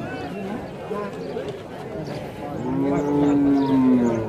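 Cattle at a bull market with Sindhi and Australian bulls for sale: a long, loud, close moo rises near the end, while people talk and bargain over the noisy crowd.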